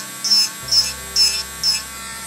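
A Belle battery-operated portable nail drill runs at 12,000 RPM with a thin electric whir under four short, regular bursts of higher-pitched buzzing as it revs, close and alone.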